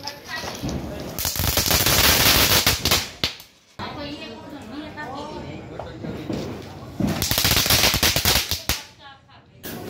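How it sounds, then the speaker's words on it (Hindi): A heap of Diwali firecrackers goes off in rapid crackling bursts, dense machine-gun-like volleys with short gaps, loud and close, while people talk and call out in the background. "बाकी के जो पटाखे के ढेर बचे हैं उनको आग लगा दिया है।"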